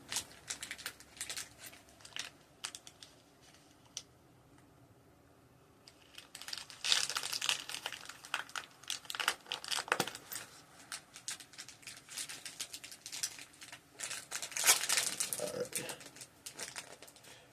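A plastic baggie crinkles up close while items are packed into it, in irregular bursts of rustling and crackling with quieter pauses in between, louder in the second half.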